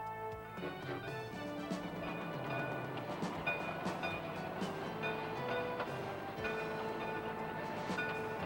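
Georgetown Loop Railroad train rolling past golden autumn aspen near the Hall Tunnel mine site, a steady close rumble with clattering wheels and sustained mechanical tones throughout.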